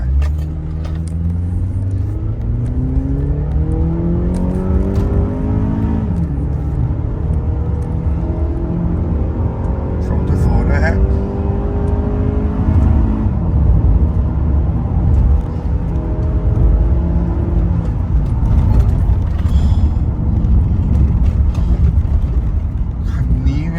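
A remapped Honda Accord G9 2.0 running on E20 fuel drives along with a loud, steady in-cabin engine drone and road rumble, engine tone rising and falling as it accelerates, with occasional faint talk inside the car.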